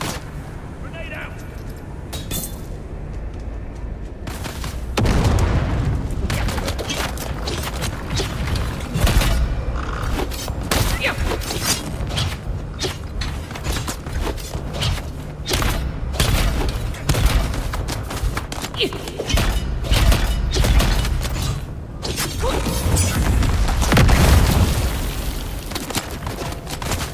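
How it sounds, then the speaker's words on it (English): Grenade explosions and gunfire in the video game Dune Awakening form a dense, continuous barrage of booms and shots, loud and close, with voices talking over the action. "Grenade out!"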